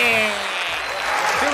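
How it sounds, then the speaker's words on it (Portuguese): A studio audience claps under a bright wash of applause on a Portuguese comedy game show, loud and sustained, with a voice speaking over it briefly. "Um aplauso para o Toy!"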